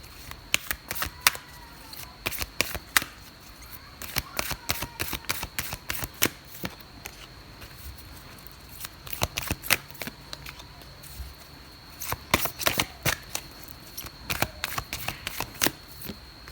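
Tarot cards are shuffled in bursts of rapid, sharp riffling clicks with short pauses between rounds, close and fairly loud throughout.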